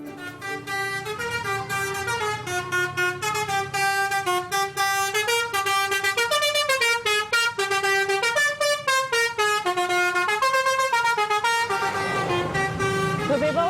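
A telolet bus horn plays a continuous musical melody of rapid, tuneful multi-tone honks, loud and close, with the notes changing steadily over roughly fourteen seconds.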